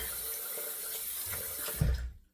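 Tap water runs steadily into a sink while shaving cream is rinsed off a face, with splashing that swells briefly before the flow cuts off.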